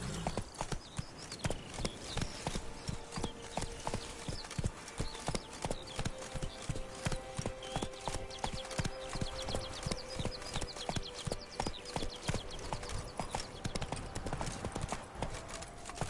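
Horse hooves gallop in The Witcher 3, a steady rapid clip-clop of hoofbeats running continuously and fairly close, with no talking over them.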